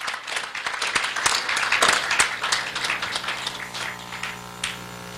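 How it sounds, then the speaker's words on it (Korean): Audience applause at a launch ceremony for a civic solidarity group: a steady patter of many hands clapping at moderate distance, swelling briefly and then thinning out over several seconds. "다시 한번 따뜻한 박수 보내주시면 고맙겠습니다"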